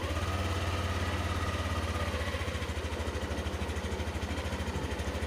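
Motorcycle engine idling after being started with a pull-down starter switch, a steady close low throb with even rapid pulses and no talk.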